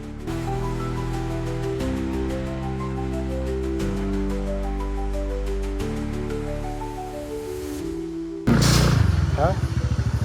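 A motorbike climbing a hill road, its engine droning steadily and stepping up in pitch through the gears, close and loud, before a burst of wind noise at the end.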